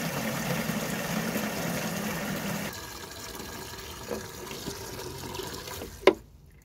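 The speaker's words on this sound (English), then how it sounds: "Just filled up the watering can, so I need to water the poly." Water runs from a tap into a watering can on an allotment plot, a steady rushing pour that drops in tone as the can fills, then stops with a clunk, with no voices.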